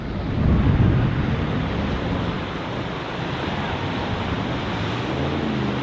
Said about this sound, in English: I'm not enjoying this cold wind hitting my face, it's freezing.